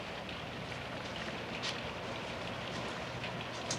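Rain as a radio drama sound effect, a steady, dense wash of falling drops that runs evenly throughout with no one speaking over it.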